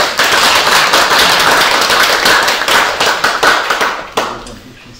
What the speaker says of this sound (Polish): Marcin Tymiński, Michał Piotrowski, Piotrowski gorące brawa.